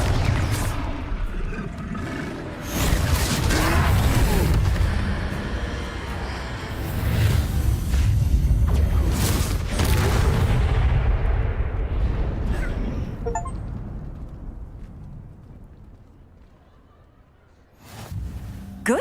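Confringo blasting spell explosions in the Hogwarts Legacy video game, a loud sustained run of rumbling booms and crackling bursts that fades toward the end before a fresh blast hits.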